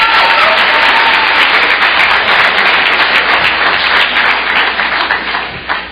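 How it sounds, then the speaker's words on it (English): A loud, close round of applause at a 2017 NDMU student-athletes athletic banquet, with many people clapping hard and evenly before it thins and tails off in the last moment. "Can we get one more round of applause for everyone"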